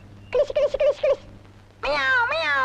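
A cat answers being called, with a quick run of short calls followed by a long, drawn-out wavering meow, close and loud over a low steady hum.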